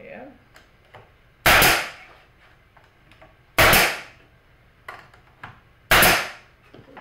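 A pneumatic nail gun drives fasteners into thin wooden beehive boards, three sharp, loud pneumatic bangs spaced about two seconds apart, with faint tapping and handling in between.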